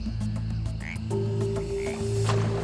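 An Australian rocket frog croaks close by in a steady run of repeated calls, layered over a sustained droning chorus, with no voices.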